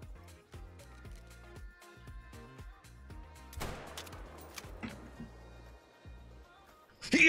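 A single rifle shot at a red fox in the hunting game The Hunter: Call of the Wild cracks out loudly mid-scene, ringing briefly over quiet outdoor ambience and soft musical tones.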